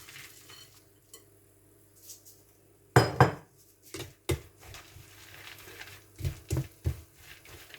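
Peanuts are stirred into light brown caramel in a pan for Senegalese caramelised peanuts: scattered scrapes, clinks and knocks of a spoon against the pan over quiet background, with no talk.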